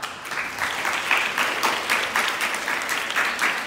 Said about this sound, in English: A round of applause to dear brother Joseph Prince from the United States of America